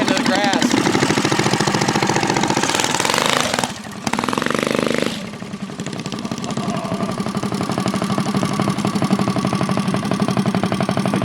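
A 420cc Rupp go-kart engine with a new 780 torque converter revs hard and close, drops briefly, then surges again and settles into a rough steady drone, with a person talking over it.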